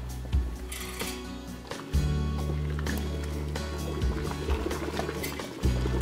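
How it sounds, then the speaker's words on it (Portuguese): Homemade liquid soap mixture of caustic soda and boiling water being stirred in a container: steady sloshing and liquid churning with low rumbling swirls and occasional splashy surges, close and continuous. "E aí você começa a mexer."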